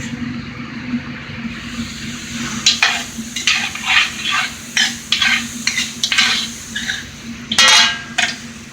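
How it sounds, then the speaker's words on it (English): Butter sizzles in a pan for cream of asparagus soup, a soft steady frying hiss beneath repeated scraping and clinking of a utensil stirring against the pan. "I'm going to melt the butter in this pan"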